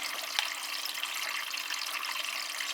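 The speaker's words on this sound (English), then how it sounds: "It's taking on more water before it's doing a rinse, which I find a bit peculiar." A Dyson Contrarotator CR01 washing machine running an 85-degree cottons wash takes on cold water before a rinse, a steady close rushing hiss of inflow that continues throughout without talk.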